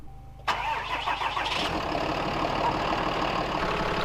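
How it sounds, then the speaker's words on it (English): A Cummins generator engine cold-starts with a sudden loud catch about half a second in, then settles into a steady, close, rumbling run with a rough mechanical clatter, and no voices. "So now we're gonna fire up the Cummins and see what that is."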